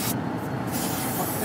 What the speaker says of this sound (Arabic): طب في سبراي ممكن تخش يعني ترش؟